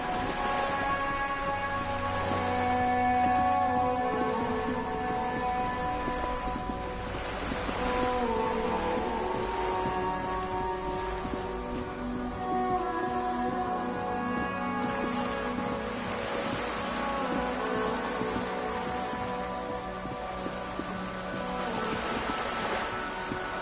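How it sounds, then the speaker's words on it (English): Steady rain pours over a great city, a dense continuous hiss of drops on surfaces and dripping eaves, with a faint low rumble like distant thunder and a soft musical tone beneath throughout. "All around you, rain falls on the great city of Revakol."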